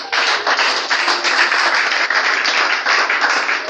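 A church congregation applauds and cheers for Jesus during a morning service, steady loud dense clapping with crowd noise sustained throughout, no speech over it.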